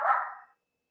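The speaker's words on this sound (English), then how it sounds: "my dogs are barking for no reason" A single short, sharp bark from a pet dog at home, close and clear, cut off after half a second with silence following.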